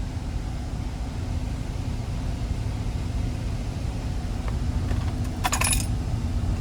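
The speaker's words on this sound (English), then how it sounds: "Got some extra keys in the ashtray." Spare keys jingle briefly in the ashtray of a 1978 Ford Thunderbird coupe with a 302 V8, a short metallic clink near the end over a steady low background hum.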